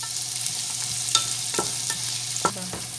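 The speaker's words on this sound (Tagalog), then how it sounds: "Kasi dyan tayo magigisa ng ating mga sangkap guys." Ingredients for beef bukhari sautéing in hot oil: a steady, close sizzle and frying hiss runs throughout, broken by a few sharp scrapes and clinks of a utensil stirring the pan.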